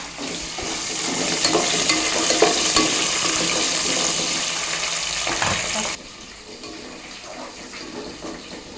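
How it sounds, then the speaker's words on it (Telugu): Green chillies, onions and tomatoes frying and being stirred in a pan, a steady bright sizzle for about six seconds that then drops to a quieter hiss with light clatter. "ఇప్పుడు పచ్చిమిర్చి ఇక పచ్చిమిర్చి తర్వాత ఆనియన్స్ టమాటా కూడా వేసుకొని మంచిగా ఫ్రై చేసుకుంటా"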